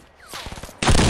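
A single loud, close gunshot from a video game weapon bursts out abruptly near the end, after a short stretch of fainter chirping and rattling game sounds.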